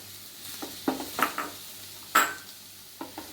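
Paneer and green chilies stirred and sautéed in a pan on high flame for spring roll filling: a few separate scraping strokes of a utensil against the pan with light sizzle, fairly quiet and close, no talk.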